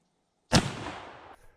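A single 50-110 WCF rifle shot with a 425 grain bullet cracks sharply after a moment of silence, followed by a ringing decay lasting nearly a second; loud and close, no voices.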